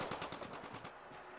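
Rapid automatic gunfire in the battle-royale shooter Apex Legends, a fast rattling burst of about ten close, loud shots over roughly a second, no voices.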